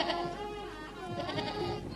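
Goats bleat in a wavering, nasal cry that rises and falls over two seconds, moderately close against a busy background with no speech.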